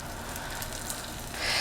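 Egg and cheese frying together in a hot pan, a steady sizzle throughout with a louder hiss swelling near the end, no voices.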